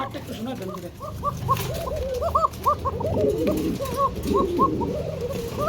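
Pigeons at a bustling pigeon sale coo in repeated soft, rolling calls, several birds overlapping steadily amid dense crowd chatter and market noise.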